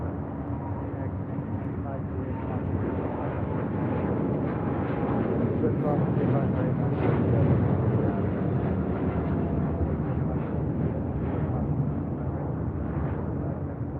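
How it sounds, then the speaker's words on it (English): A United Airlines Boeing 787-10 Dreamliner taking off at LAX, bound for Tokyo Narita, as a loud continuous jet engine roar that swells and stays broad and steady, with a voice talking faintly beneath it. "This is United Airlines Flight 32 taking off to Tokyo Narita on a 787-10 Dreamliner"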